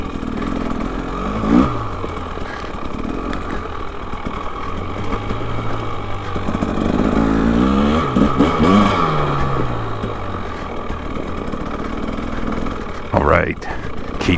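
A KTM 300 XCW two-stroke dirt bike revs in snow, a steady buzzing engine with rising and falling pitch sweeps as the throttle opens, close and loud, with a voice talking over it.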